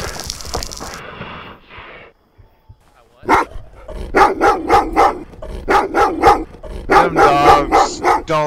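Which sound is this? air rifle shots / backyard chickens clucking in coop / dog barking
dog barking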